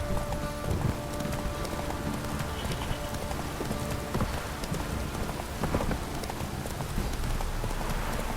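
Roach the horse gallops in The Witcher 3 with a steady clip-clop of hooves under rain and wet ambience, the hoofbeats fairly close and continuous through a dense, noisy scene.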